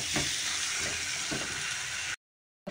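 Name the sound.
potatoes sautéing in spice paste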